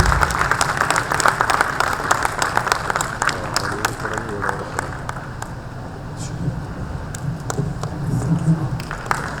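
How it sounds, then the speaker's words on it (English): Audience applause at a corporate volunteering conclave, steady clapping throughout with some voices and crowd noise mixed in. "A big round of applause, please."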